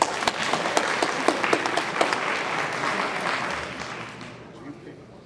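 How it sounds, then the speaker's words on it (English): Applause from an audience at a nonprofit breakfast greets prize winner Liz, dense clapping with a few sharp, louder claps standing out, faint talk underneath, then tapering off toward the end. "Big round of applause for Liz."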